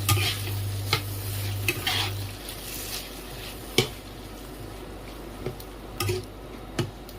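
Chili chicken being stirred in a frying pan, with a steady soft sizzle under scattered spoon scrapes and a few sharper clinks against the pan, close and moderately quiet.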